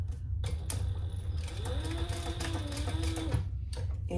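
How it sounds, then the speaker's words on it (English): Sewing machine running steadily, stitching a #5 zipper onto a triple sling with an 1/8-inch seam, a continuous close mechanical whir with rapid needle clatter and short pauses at the start. "now let's go ahead and stitch that on 1/8 of an inch"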